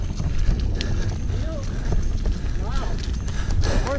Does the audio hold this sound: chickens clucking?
no